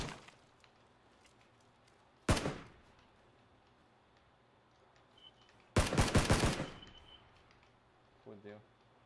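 Bursts of video game gunfire: a single loud shot near the start, then a longer rapid automatic burst midway, with a faint ambient background and a brief voice near the end.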